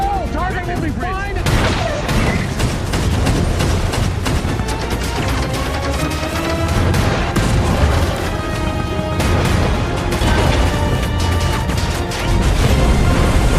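Dense, loud naval gunfire and booming explosions from a World War II American destroyer battling a German submarine in the Atlantic pile up over a dramatic movie score, with rapid repeated blasts throughout and a voice speaking Indonesian over the top.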